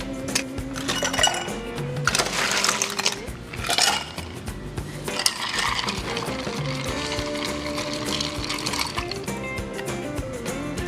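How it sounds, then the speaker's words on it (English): A Boulevardier of Campari and bourbon is stirred in a mixing glass, giving repeated glassy clinks and chimes over a busy background. "Stir this in our mixing glass."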